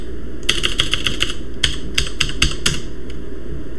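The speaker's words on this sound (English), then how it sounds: "Press enter over here and type our username and password." Username and password typed on a computer keyboard, a string of crisp, close key clicks in uneven bursts with brief pauses, over a steady background hum.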